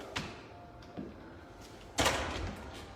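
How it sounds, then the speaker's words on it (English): A door being closed indoors during a mobility and recovery session: a couple of soft knocks and bumps followed by a firmer thud and short rattle as it shuts, close and moderately quiet, with no talking. "I'm going to close my door up."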